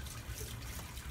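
Water gushes hard from a newly replaced kitchen faucet into a sink, a loud, dense, steady splash for a brief moment.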